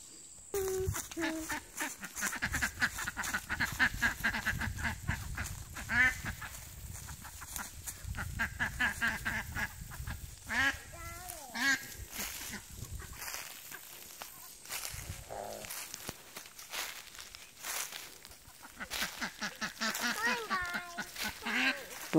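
Ducks quack in bursts over a long stretch outdoors, with a child and an adult talking throughout and footsteps mixed in.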